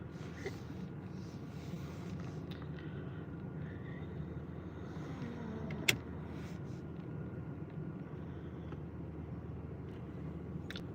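A car engine idles steadily on a freezing cold day to warm up, a low continuous rumble with faint cabin noise and one brief click near the middle.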